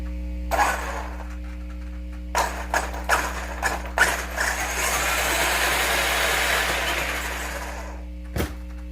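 A repaired Traxxas X-Maxx RC truck's electric motor whirs over a steady background hum, with a few short revving bursts and then a longer sustained run that swells and fades, ending with a brief click.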